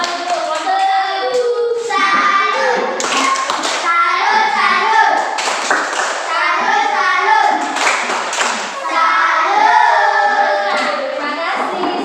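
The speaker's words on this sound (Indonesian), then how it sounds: "Oke, tepuk tangan untuk kelompok 2." Classroom of schoolchildren clapping for a student group that has just presented, rhythmic patterned group clapping mixed with children's voices chanting and talking along, close and lively throughout.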